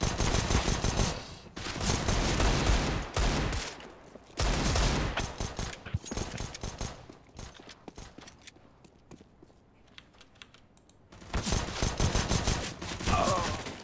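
Loud bursts of gunfire in a Counter-Strike style match come in several clusters, separated by a quieter stretch of footsteps and faint movement before the shooting resumes.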